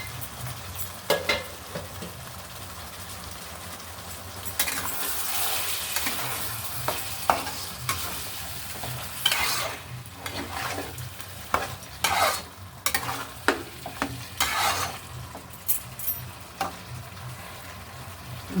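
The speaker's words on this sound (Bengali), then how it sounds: "মাংসর সাথে আলুটাও কষিয়ে নেব।" Chicken and potatoes sizzle in a pan while being stirred, soft continuous frying with repeated scraping strokes of a spatula, close and moderate in level, no speech.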